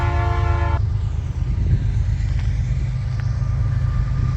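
Freight train horn sounding a short toot, then a steady low rumble of passing rail traffic under wind and rain.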